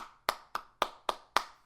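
Five single, sharp hand claps close to the microphone, evenly spaced about a quarter second apart, each with a short ringing decay and no voices over them.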